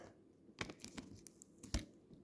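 A paper packet of Pikachu collectible items is torn open, giving a few sharp tearing and crinkling bursts close to the microphone, with quiet rustling between them.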